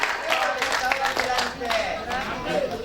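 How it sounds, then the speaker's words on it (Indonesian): A hall audience at a Ramadan Quran recitation competition claps in dense, steady applause, with individual hand claps audible throughout and faint voices in the background. "Tepuk tangan yang sangat meriah."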